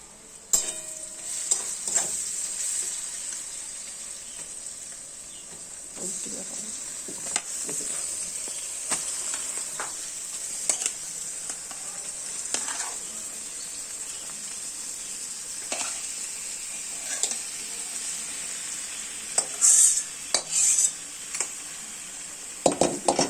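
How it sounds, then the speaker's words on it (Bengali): Meat frying in hot oil in a pot, part of a home-cooked meat dish, sizzles steadily throughout with scraping stirs and occasional clinks of a utensil on metal, close and fairly loud, with no voices. "এবার দেখুন মাংসটা দিয়ে দিয়েছি তেলের মধ্যে"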